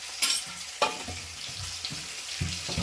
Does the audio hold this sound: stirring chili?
yes